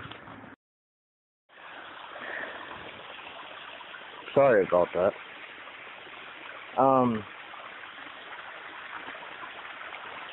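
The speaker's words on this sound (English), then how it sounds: "I'm here in the woods at the creek." A creek flows steadily through woodland, a continuous watery rush that fills the clip and briefly drops out near the start. A person speaks in two short bursts over it.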